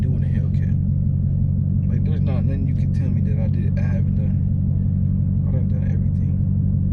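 Dodge SRT Hellcat engine rumbling steadily in a low, continuous drone beneath a man's close conversation throughout.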